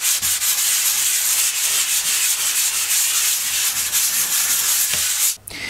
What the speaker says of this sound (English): once your joint compound has dried, all you need to do is a light sand